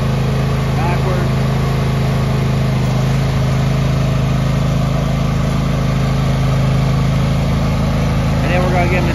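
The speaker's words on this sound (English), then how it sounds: "We're gonna get our demo driver to fire her up." An Ariens 20hp riding lawn mower with a 46-inch deck runs outdoors, its engine holding a steady, loud drone throughout with no pauses.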